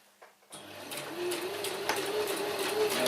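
A sewing machine runs steadily while stitching a seam on a small stuff sack for a billy can. The close, continuous mechanical whir starts after a brief pause and builds slightly.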